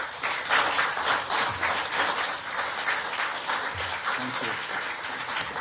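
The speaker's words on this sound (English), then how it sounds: "Can we please have a huge round of applause for them?" An audience gives a round of applause for the panelists at the close of an arbitration conference panel, with steady clapping throughout and a few faint voices underneath.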